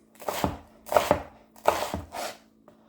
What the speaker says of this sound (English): I'm just going to kind of chop through mine. So I'm just going to go half it and then slice.